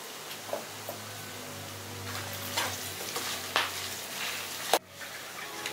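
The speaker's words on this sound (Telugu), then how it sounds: "సో ఇది కొంచెంసేపు ఫ్రై అవ్వాలి." Mango rice tempering sizzles steadily in a pan while a spoon stirs and scrapes in irregular strokes, with a louder metallic clack near the end.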